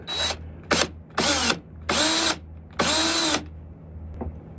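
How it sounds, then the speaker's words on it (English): A power drill countersinks a hole in a wooden walking stick, giving five separate high whining bursts of varying length with short silent gaps between them, loud and close. "puts a countersink on the edge of that hole"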